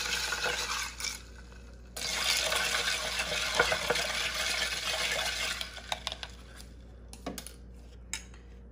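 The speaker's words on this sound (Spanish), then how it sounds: "Y lo meneas." Spoon stirring and clinking in a cup of sweetened coffee: bright metallic scraping and taps close up, with a few louder clinks and a brief liquid splash near the end.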